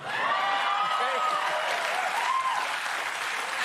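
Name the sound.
studio audience applauding and cheering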